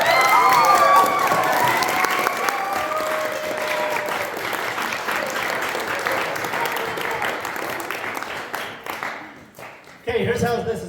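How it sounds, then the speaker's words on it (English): A small audience at the close of a summer ecological agriculture course breaks into a round of applause, dense clapping that gradually thins and fades, then a voice resumes speaking at the end. "let's give these guys a round of applause"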